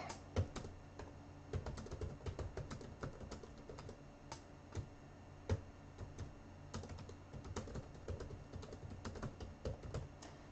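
Computer keyboard typing goes on steadily and close by, a dense irregular patter of quick key clicks with brief pauses, fairly quiet overall and with no talking.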